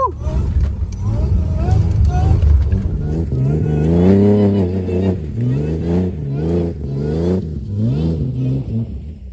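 A supercharged Toyota Hilux with an L67 engine swap revs hard at muddy pits, its engine note rising and falling loudly and close, with a voice talking over it.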